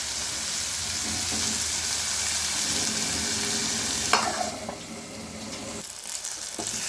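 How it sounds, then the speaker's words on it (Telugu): Tomatoes, onion, green chillies and curry leaves frying in hot oil for an egg curry, a loud continuous sizzle with stirring, a sharp clink partway through and the crackle dipping briefly before rising again. "ఇలా చేసుకొని ఫ్రై చేసుకోవాలా"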